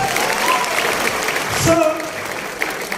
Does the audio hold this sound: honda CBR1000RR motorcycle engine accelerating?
no